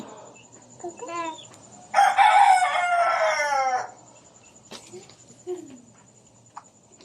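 Chickens cluck nearby, and a rooster lets out a long, loud crow in the middle, with some voices around it.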